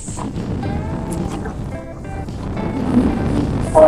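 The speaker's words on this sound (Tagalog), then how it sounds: "Lakas ng hangin." Strong wind roars and buffets the microphone with a low rumble, while faint voices come and go in the background.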